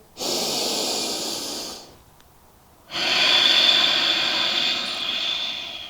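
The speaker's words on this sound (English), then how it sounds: "And breathe. One more breath here." Deep, slow breaths during a yoga session: a long, steady exhale, a short pause, then another long breath, close and clear with no talk over it.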